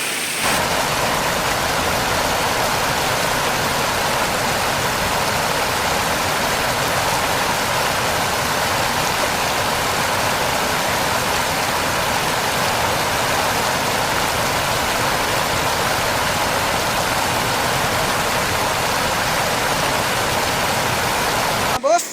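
Steady rushing water at the top of a waterfall in Riyadh, Saudi Arabia, a continuous broadband roar close to the listener that holds evenly throughout.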